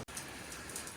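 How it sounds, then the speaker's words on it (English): Heavy rain falling steadily outdoors on a muddy March day, a dense, even hiss of drops close by with no pauses or voices. "Rain seems to be getting heavier"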